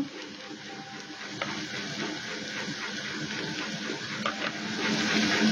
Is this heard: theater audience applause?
no